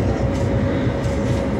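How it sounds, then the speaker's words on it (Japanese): A train on the Ueno-Tokyo Line, heard from inside a tatami party car, gives a loud, steady rumble with rhythmic wheel clatter and a sustained tone throughout. "上野東京ライン走行中でございます。"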